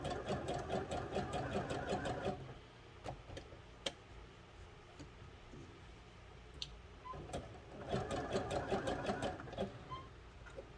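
A sewing machine stitches the seams of wrestling tights in two loud rapid bursts with a quieter pause of clicks and handling between them, and nobody speaks.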